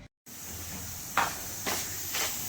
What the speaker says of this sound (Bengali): ওই দেখুন প্রেশার কুকারে সিটি পড়ছে